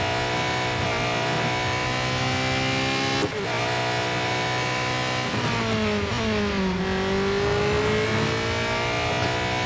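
A Porsche 919 Hybrid Evo race car in Real Racing 3 screams through its gears, the loud engine note climbing and dropping with shifts and brief lifts, continuous for about ten seconds with no talk.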